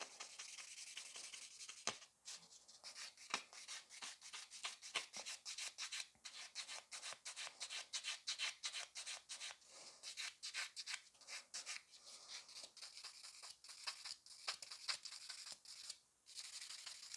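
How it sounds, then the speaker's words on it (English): Gel nails in a baby boomer faded French with glitter encapsulation get buffed with a file, a steady close scratchy rubbing repeated in quick strokes for the whole stretch, with no talk. "So I would definitely like keep buffing them before the top coat application"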